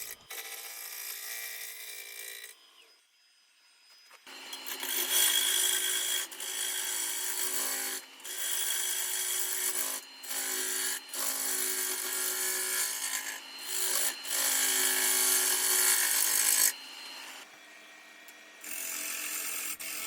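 Wood roughed out on a lathe with a 3/4 inch bowl gouge, for a hollow form made with the Oneway Hollowing System: loud, close, rasping scraping runs in long steady passes, broken by short pauses and one longer gap near the start.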